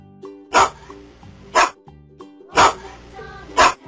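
A dog barks four times in loud, evenly spaced bursts over soft background music, as part of a children's lesson on animal names.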